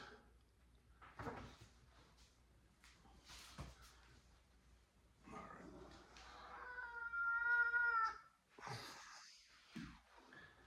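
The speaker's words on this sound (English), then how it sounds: "And I got Felix, my cat, joining in here." A pet cat meows and caterwauls in several drawn-out, tonal cries, close and fairly loud, with a long wavering yowl near the end, over a quiet room.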